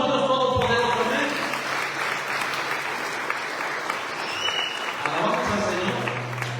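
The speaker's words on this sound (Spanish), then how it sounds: "Dale un aplauso a Dios Todopoderoso." A church congregation at a Spanish-language service claps loudly and continuously, with a few voices calling out over the applause before it eases off.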